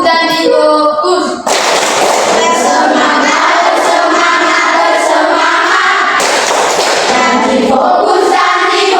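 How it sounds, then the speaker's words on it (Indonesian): A primary school class does a rhythmic clapping chant, with many children clapping in patterned bursts and shouting together. The sound is loud and close throughout. "Tepuk janji fokus."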